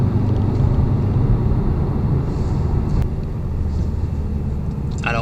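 A Jaguar F-Type P300 2.0-litre engine with its active exhaust valves open gives a deep, steady rumbling drone, loud and continuous from a moving car, easing slightly partway through with a brief click near the end.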